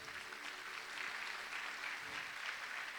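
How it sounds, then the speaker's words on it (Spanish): A church congregation applauds together, a soft, fairly distant and steady patter of clapping hands that lasts throughout with no voices over it. "Dele un aplauso al Señor"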